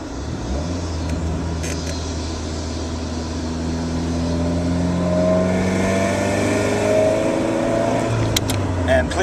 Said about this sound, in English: First gear pull. And a little bit of second.